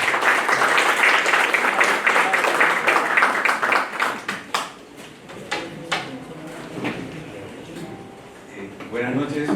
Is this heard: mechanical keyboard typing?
no